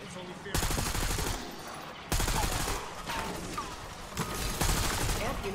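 Gunfire in the Black Ops 6 Zombies video game. Loud bursts of rapid automatic fire come in three or four long strings with short pauses between them.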